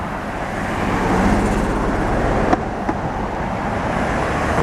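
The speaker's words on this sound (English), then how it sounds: "I'll let those cars pass." Cars pass on a road in a steady wash of traffic noise, a continuous broad rumble that swells slightly as vehicles go by, with a couple of faint clicks and no talk.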